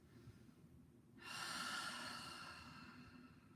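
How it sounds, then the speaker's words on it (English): One long, deep breath is drawn and slowly released. It is close and airy, starts suddenly after a quiet moment, then fades gradually over a couple of seconds. "We need to take several deep breaths."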